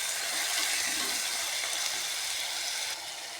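Chopped tomatoes frying in a pan for a Kerala-style fish curry, giving a steady, loud, bright sizzle that hisses continuously and drops slightly in level near the end, with no talking.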